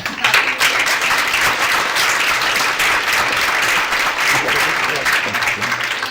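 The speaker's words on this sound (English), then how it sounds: "Round of applause" Audience at a filmmaking panel breaks into a full round of applause, dense continuous clapping that stays loud throughout with faint voices beneath it.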